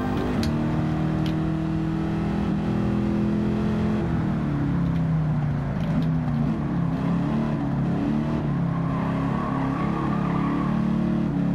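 Ford Mustang Mach 1 engine droning steadily in a Gran Turismo racing game, pitch climbing and dipping as it drives and shifts, loud and continuous with no voices.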